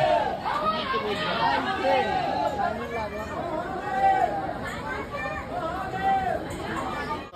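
Pilgrims crowding the Omkareshwar temple fill the air with steady, dense chatter, many overlapping voices forming a continuous hubbub close around.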